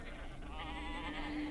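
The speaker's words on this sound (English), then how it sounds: "sheep" A sheep bleats in one sustained, wavering cry that fills the whole short moment, close and clear over a faint background.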